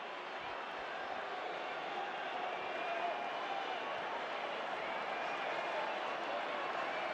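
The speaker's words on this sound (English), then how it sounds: "And even the Colombia fans are applauding him." Colombia supporters in a packed stadium at a Copa America football match applaud steadily, a dense, continuous wash of clapping and crowd noise with no break.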